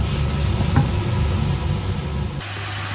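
Minced beef, freshly hand-chopped, sizzles steadily in a hot pan as it starts to grill, a close, continuous hiss with a few light knocks and no voices.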